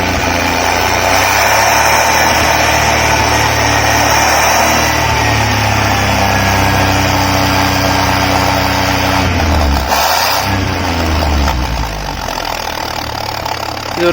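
A Maruti 800 engine fitted with an oil-funnel modified silencer runs loud and steady at close range, holding a droning idle with a brief dip and rise in revs near the end.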